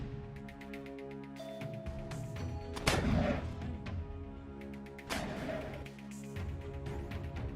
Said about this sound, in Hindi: कुछ लड़ाके एक पेड़ के पीछे छिपकर लगातार रॉकेट फायर करते हुए नजर आ रहे हैं